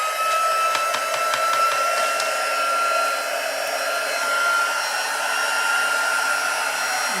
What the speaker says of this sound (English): I'm just going to quickly get my heating tool